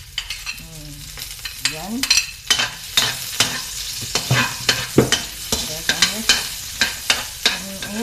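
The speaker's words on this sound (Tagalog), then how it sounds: "Mainit na yung mantika guys, kaya tumutunog na pag nilalagay na." Garlic sizzling in hot cooking oil while being stirred, a bright crackling fry punctuated by regular scraping strokes of a utensil, with a brief spoken word and occasional voice in between.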